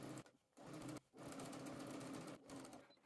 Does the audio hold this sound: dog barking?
no